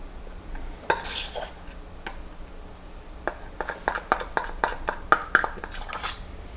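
Maple syrup scraped from a cup into a mixing bowl for a homemade candy bar, a run of light, irregular scrapes and taps close by, growing busier toward the end, with no voices.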